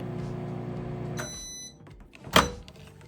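A microwave oven hums steadily after heating oil in a thin bowl, a short beep sounding near the end of the run, then the hum stops and the door clicks open with a sharp thunk, close and clear.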